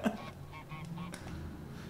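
Honks from the goose in Untitled Goose Game, a few short nasal calls in quick succession at moderate volume, with no talking during them.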